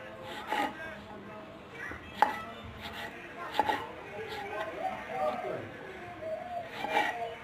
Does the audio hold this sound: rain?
no